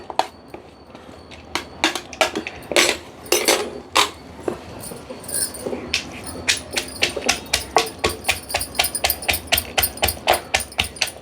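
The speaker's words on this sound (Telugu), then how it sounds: "ఈ పచ్చిమిర్చి వేసుకొని దంచుకుందాము" Green chillies being pounded in a stone mortar, sharp hard thuds landing irregularly at first, then settling into a fast, steady rhythm, close and alone without talk.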